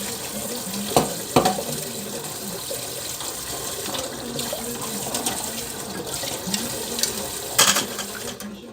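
A cup of water is poured into a pot of pork kimchi stew, a steady rushing splash over a sizzling, bubbling background, with a few clunks of the pot and no talking.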